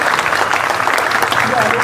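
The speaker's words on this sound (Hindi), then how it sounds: "जोरदार तालियों से स्वागत सिमरन" A school ceremony audience gives loud, dense applause to a top-scoring student, a steady close roar of clapping with faint voices mixed in.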